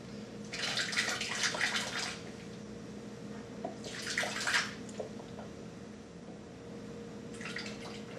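Sugar water is poured into a container in three short bursts, splashing and trickling, with quiet pauses between pours, while harvesting yeast from Coopers Sparkling Ale.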